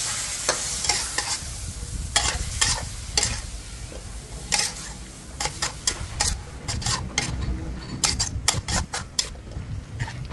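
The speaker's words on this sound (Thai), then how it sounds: "แล้วก็ผัดต่อค่ะ" Sliced pork belly and Thai eggplant stir-fried in a pan, giving a steady sizzle broken by repeated scraping and clattering strokes of a spatula, loud and close throughout with no voices.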